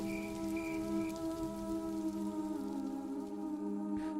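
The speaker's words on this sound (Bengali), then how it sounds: "চারদিক খালি, জানালার কাছে শুধু বৃষ্টির শব্দ।" Steady rain falls outside a window, a continuous soft patter over a low sustained droning tone, with no voices.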